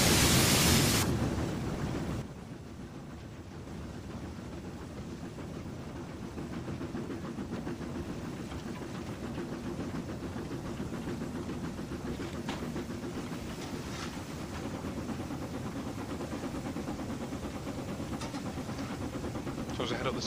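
Steam locomotive on the West Highland line east of Crianlarich in Train Simulator 2019: a steady, continuous rumble and hiss that follows a louder burst at the very start.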